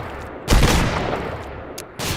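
Bursts of gunfire from Roblox Dead Rails crack out in loud blasts, one big shot followed by a fading tail, then another sharp report near the end.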